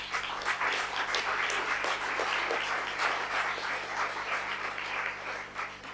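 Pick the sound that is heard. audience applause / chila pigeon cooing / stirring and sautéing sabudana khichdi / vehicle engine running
audience applause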